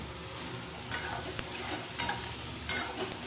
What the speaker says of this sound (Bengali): এবার ভালো করে কষানোর পালা